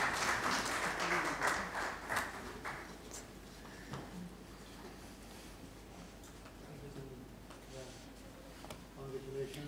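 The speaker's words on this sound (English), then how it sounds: "Please give a big round of applause to him" Applause for an award winner at a formal awards ceremony, a burst of clapping in the first few seconds that quickly fades under ongoing crowd chatter and room noise.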